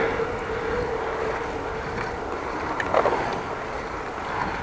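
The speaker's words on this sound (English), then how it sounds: "Train you hear behind me," A continuous low rumble and rattle of a train rolls past at a moderate distance north of Groningen, with a brief clank partway through and no one talking.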